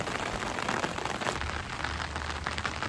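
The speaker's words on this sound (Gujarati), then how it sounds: "તો કેટલો વરસાદ છે." Heavy rain pours steadily, a dense, loud hiss of drops drumming on surfaces with a low rumble beneath, no voices.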